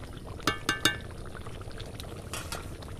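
Thickened chicken curry gravy bubbles softly in a pot, with a few sharp clinks near the start and a low, steady simmer throughout.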